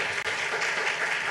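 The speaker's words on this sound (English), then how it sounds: "please a round of applause for this amazing leader" Brief, dense audience applause at a storytelling forum, steady clapping from many hands with a short dip near the start.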